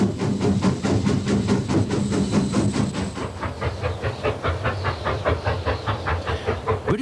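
A preserved 9F steam locomotive hauls a load of stone, its rhythmic exhaust chuffs beating steadily and loudly over a hiss of steam and the rolling of the wagons.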